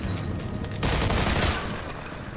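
Gunfire bursts from a shotgun and other guns in the video game Mafia II, loud and close, with dense overlapping shots and a heavy boom in the middle of the clip.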